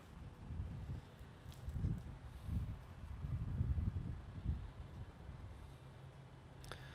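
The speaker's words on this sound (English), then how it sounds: "it's a little bit windy out here today" Wind buffeting a microphone outdoors while a selfbow is being backed with glued cloth and artificial snake skin, a steady low rumble with gusts swelling and fading across the stretch.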